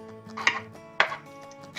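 Sausage breaking apart in a cooking pan, two sharp scraping, chopping hits spaced about half a second apart over a low steady background, with a fainter third strike near the end and no talking.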